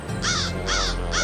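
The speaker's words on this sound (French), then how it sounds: "Un corbeau." Three loud, harsh crow caws, evenly spaced and close by, with a steady low background hum.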